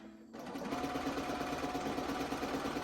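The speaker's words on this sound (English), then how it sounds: "pull my bobbin thread up before I start stitching" A sewing machine fitted with a free motion foot starts up and stitches steadily, a fast even whirring hum close by with no talk.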